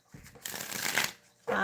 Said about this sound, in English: Just going to give it a quick shuffle.